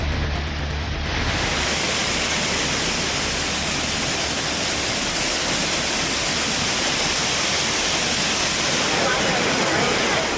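Courtallam's main waterfall in full flow during the Saral festival, a loud, steady broadband roar of falling water that fills the whole stretch without a break.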